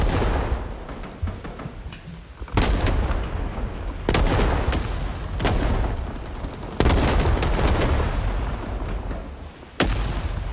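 Hand grenade explosions and gunfire in the Vietnam War video game Rising Storm 2: Vietnam, with several heavy booms at irregular intervals over a constant roar of distant battle noise.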